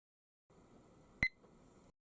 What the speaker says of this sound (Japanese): タイマーがスタートします。